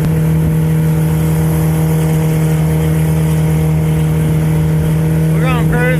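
A heavily loaded motorboat's engine drones at a constant cruising speed upstream on the Sabine River, with a brief rising whine near the end.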